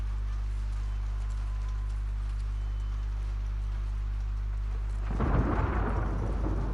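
Thunder booms in The Last of Us Part II, a sudden loud crash and rolling rumble that breaks over steady, heavy rain and lingers to the end.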